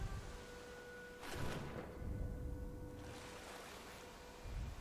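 Steady broadband rushing water from a waterfall in Rise of the Tomb Raider fills the whole stretch, swelling in brief surges and heard alone without talk.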